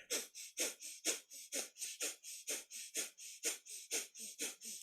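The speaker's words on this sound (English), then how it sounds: "So that's our panting breath through the nose." Rapid rhythmic panting through the nose in breath-of-fire yoga breathing: about seventeen sharp, even huffs in quick succession, close and clear, with no talking.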